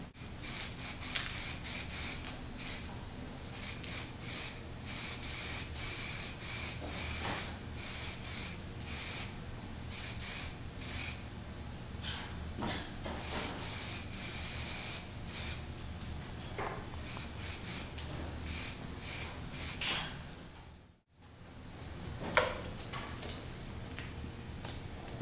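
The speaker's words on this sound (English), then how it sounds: "we'll go ahead and spray our self-etching primer" Self-etching primer sprayed from a paint gun onto a car panel, bursts of hissing spray in quick on-off pulses with steady rhythm, one brief pause near the end, no voices.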